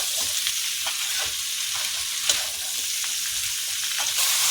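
Flat beans and potatoes fry in a pan and get stirred steadily, a constant close sizzle broken by repeated scraping strokes of a spoon, with no voices.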